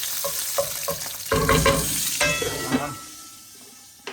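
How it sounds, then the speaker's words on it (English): Anchovies fry in oil in a pan for puttanesca and are stirred as they dissolve. A close, crackling sizzle swells and fades under scraping stirs, with quick utensil knocks. "Alright, I'll give you a stir. You can see it starting to dissolve already."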